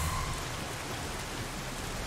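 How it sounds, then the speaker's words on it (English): Rain in the game Nioh falls as a dense, even hiss across the whole short stretch, close and steady, with nobody talking. "Oh, rain! How great."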